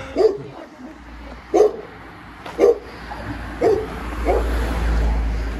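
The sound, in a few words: dog barking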